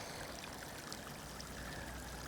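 A steady, faint rush of water flowing from a solar-powered pump's hose, continuous and even throughout with no voices.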